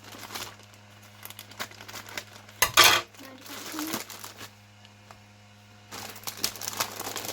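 A craft goodie bag package is opened slowly by hand, giving soft plastic crinkles and rustles with one brief louder crackle, close and quiet over a low steady hum.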